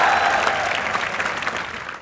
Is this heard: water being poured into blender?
no